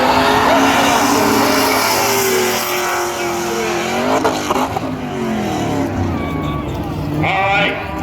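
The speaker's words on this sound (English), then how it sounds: "Down into 1 and 2, and Stanley leads it off the corner." Race cars roar around a track corner, loud and close, with engine pitch rising and falling as they accelerate past one another.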